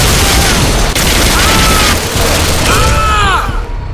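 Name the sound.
gunfire from the Bodycount video game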